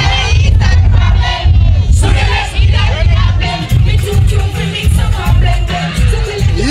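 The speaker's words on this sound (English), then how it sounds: "Let's go inside the crowd and see what's going on right now" A loud festival crowd at Dream Weekend 2019 roars and whoops over heavy, pounding bass music, with scattered shouts rising above the din throughout.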